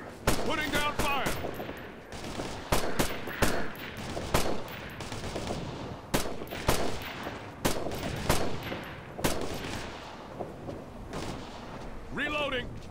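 Repeated rifle and machine-gun bursts from a squad firefight in the military shooter Operation Flashpoint: Red River, sharp loud cracks at irregular intervals with radio-style voices talking between and over the shots.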